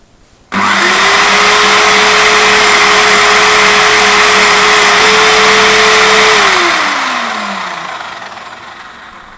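A spinning polishing wheel for aluminium is cleaned by holding a scrap of sheet metal against it, giving a loud, steady motor whine with broadband scraping hiss that holds for several seconds, then winds down as the wheel slows.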